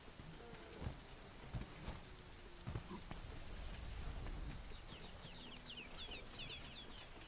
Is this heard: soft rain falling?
yes